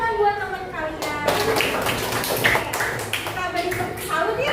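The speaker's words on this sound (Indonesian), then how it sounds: "Tepuk tangan buat teman kalian." Classmates in a classroom clap for a fellow student, a dense run of hand claps with children's voices mixed in, steady and moderately loud throughout.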